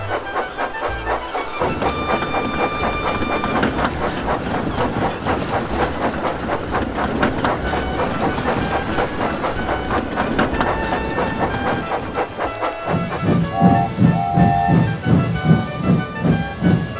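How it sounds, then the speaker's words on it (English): A goods train departs a station and rolls steadily with rhythmic clickety-clack of wheels on rails, rumbling throughout, with a few brief whistle-like tones near the end. "Oliver left the station with Duck's goods train"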